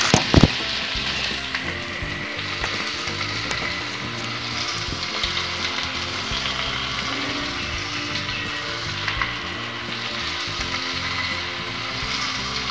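Taro curry frying in a pan for a traditional Assamese sour dish, a dense continuous sizzle with rattling, scraping stirring throughout, loud and close, no talking.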